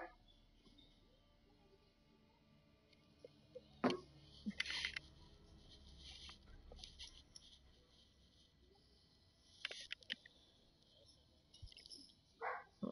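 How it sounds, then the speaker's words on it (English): A dog barks faintly in the distance in a few scattered bursts over low, steady background hum, with long gaps between barks. "Her dog won't stop barking."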